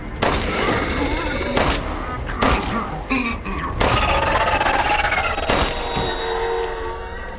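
Gunfire in Resident Evil Village, Shadows of Rose: sharp, loud shots come one after another at uneven intervals, with several close together, over game ambience and a man's speech.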